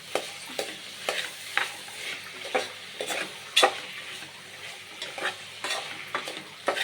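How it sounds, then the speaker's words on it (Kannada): Tomatoes fry on high flame for pulao, a constant sizzle under repeated scraping stirs of a spoon against the pan, the strokes coming in a steady rhythm close to the pan. "ಟೊಮೆಟೊ ಫುಲ್ ಸ್ಮ್ಯಾಶ್ ಆಗೋ ತನಕ ಚೆನ್ನಾಗಿ ಹೈ ಫ್ಲೇಮಲ್ಲಿ ಹುರಿಬೇಕು"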